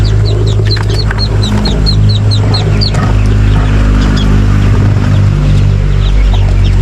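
Young chicks chirp in quick repeated high peeps as they are let into a backyard cage, loud and close over a dense farmyard background of clucking chickens.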